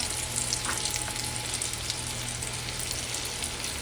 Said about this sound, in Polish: Podsmażymy je na złoty kolor.